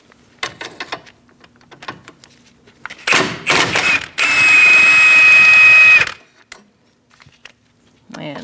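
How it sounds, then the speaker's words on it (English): A 13mm socket on an extension works loose a rear caliper bracket bolt on a 2000-2006 Mini Cooper, with short clicks and clatter, then loud bursts of tool noise and one long, steady, harsh stretch of several seconds. "Using a 13mm socket with an extension, I'm going to remove this bolt and also this one up here."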